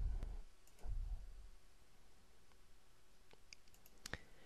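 Sparse computer mouse clicks in CAD software, faint and far apart over a low background hum, with a quick double click near the end.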